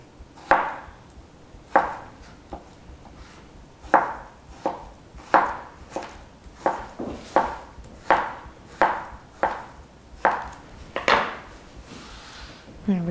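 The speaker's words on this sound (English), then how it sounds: "And cut it into nice long slices" A knife cuts a ripe pear into long slices about a quarter inch thick, making a regular series of crisp taps against a cutting board, roughly one a second, close and clear.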